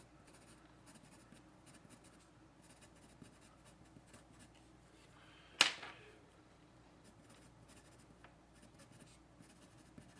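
An Imagine graphite pencil writes on paper, giving a faint, soft scratching close by, with one quick, sharper stroke partway through.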